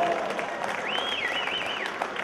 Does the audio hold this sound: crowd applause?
yes